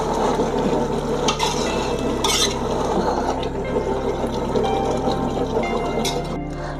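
Quail biryani rice is stirred in a pot with steady scraping and shuffling, over a faint sizzle and low hum, with no talking.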